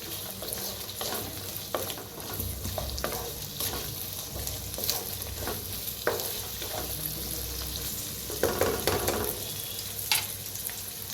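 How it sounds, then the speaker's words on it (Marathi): Onion, carrot and peas fry in a pan for a rice dish, producing a constant close sizzle broken by repeated scraping and clinking strokes of a spoon, with no talking. "त्याच्यातच टाकूया मटर बी, मटरला बी भाजून घेऊया"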